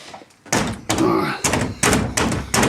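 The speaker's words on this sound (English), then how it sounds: "we'll close this door." A door in a building's roof space is pulled shut, giving several dull thunks and knocks in quick succession close by, with people talking over them.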